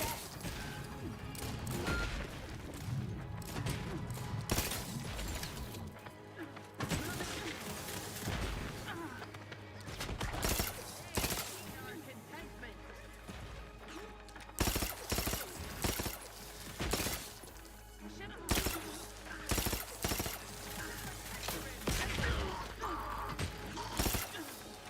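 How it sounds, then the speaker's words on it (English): Sustained video-game combat in Outer Worlds 2 as a robot fires a missile launcher: dense repeated blasts, booms and crashes, loud and continuous over the whole stretch, with mechanical clatter and a voice talking throughout. "It's just using a fucking missile launcher"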